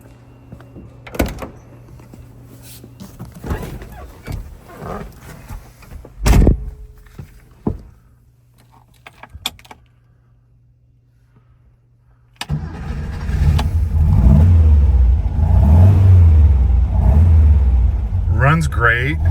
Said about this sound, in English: Let me do a cold start since we have it over here.